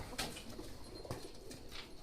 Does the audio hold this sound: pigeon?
yes